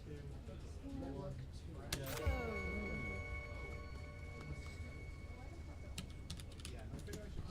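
Rapid clicks of computer keyboard keys being typed, entering a cutscene-skip command during a Hyper Light Drifter speedrun, sit fairly quietly over soft game tones and background noise.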